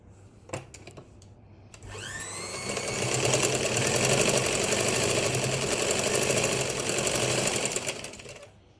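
A sewing machine stitches a straight seam on a fabric hand pouch, starting after a few clicks and then running in one long, loud, steady whir close up for several seconds before slowing.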